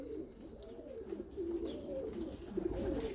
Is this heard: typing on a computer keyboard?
no